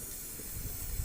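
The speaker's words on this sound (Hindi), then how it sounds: "अब हम सबसे पहले चूल्हा जलाएंगे।" A kitchen gas stove is being lit for a chicken and bitter gourd curry, giving a steady, close hiss of burning gas that lasts about a second with no talk.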